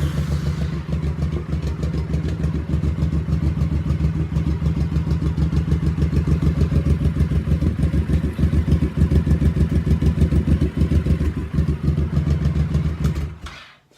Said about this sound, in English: We got everything installed and the bike actually runs pretty good.